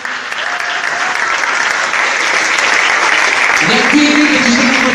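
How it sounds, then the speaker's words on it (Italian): A large crowd applauds the children at an Italian community gathering where alpini are cooking pasta, steady dense clapping throughout with a faint voice and some tonal sounds near the end. "ringraziamo i bambini con un grande applauso"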